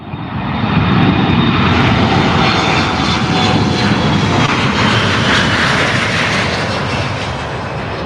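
Airplane engine roaring steadily at close range while boarding, a loud broadband drone that swells in within the first second and holds without a break, no voices over it.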